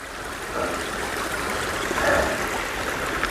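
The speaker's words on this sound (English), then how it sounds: "this is the only water source that I've come across today on the trail." A small stream serving as a water source on the Appalachian Trail, a steady close rushing and trickling babble with no voices.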